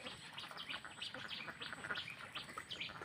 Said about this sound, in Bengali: এটা হলো দেশি হাঁসের খামার।